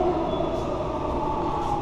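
Steady, loud rumble of a subway train in an echoing station in Seomyeon, a continuous droning roar with faint high squeal, no voices.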